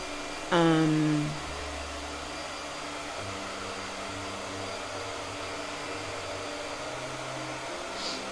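A hair dryer blows on paint, switching on with a brief rising whine and then holding a steady whirring drone that runs on at moderate volume with no talk over it.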